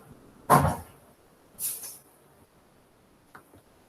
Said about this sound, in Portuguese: Deixa eu só fechar uma porta aqui para segurar um pouco o barulho da chuva.